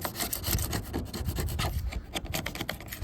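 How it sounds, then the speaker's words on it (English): Knife blade scraping along the surface of a jon boat, a steady close rasping rub that continues in short repeated strokes for about three seconds with no talking. "Literally just scrape as you go."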